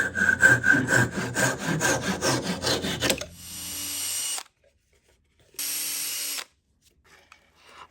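A hand saw cuts through a small coat hanger in quick, rhythmic back-and-forth strokes, loud and close, followed by two short bursts of scraping and a quiet pause.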